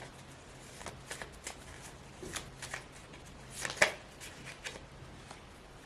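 A deck of cards is shuffled over and over, soft riffling bursts and papery flicks in an irregular rhythm, close and fairly quiet, with one sharper riffle near the end and no speech.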